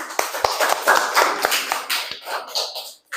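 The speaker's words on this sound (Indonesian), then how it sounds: "Beri tepuk tangan" A classroom group at a university teaching session claps in a loose, uneven patter of close, fairly loud hand claps that thins out and trails off near the end.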